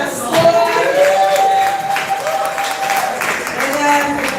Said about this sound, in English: Y'all clap for the poet on score.